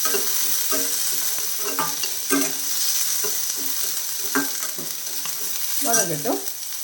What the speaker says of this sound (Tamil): ஒரு பத்து சின்ன வெங்காயத்தை நல்லா வதக்கட்டும்